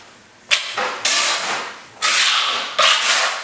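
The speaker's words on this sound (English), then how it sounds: "back buttering is just putting the thin set again on the back side of the tile as well as on the floor" Thinset mortar scraped across the back of a tile with a notched trowel while repairing a broken floor tile: four loud, close, hissing swipes, each starting abruptly and fading, with no voices.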